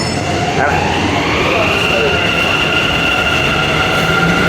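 A metro train in Bangalore rumbles along steadily with a faint high whine from the wheels. The noise is constant and fairly loud throughout.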